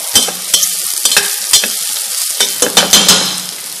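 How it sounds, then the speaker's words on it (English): White onion sautéing in olive oil crackles and sizzles under repeated stirring, with sharp scrapes of a utensil against the pan recurring in an irregular rhythm, close and fairly loud. "the white onion that's sauteing in the olive oil"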